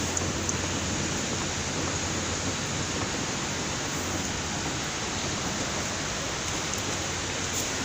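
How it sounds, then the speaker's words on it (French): Water running like an open tap from a leaking flooded floor in a four-storey building, a steady, even hiss of flowing water that continues unchanged throughout. "Ça coule comme le robinet."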